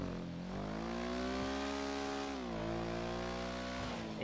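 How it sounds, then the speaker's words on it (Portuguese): A motorcycle in the GTA V video game revs, its engine holding a loud steady drone whose pitch swells and dips, continuous and close with no talking over it. "Dá uma aceleradinha aqui."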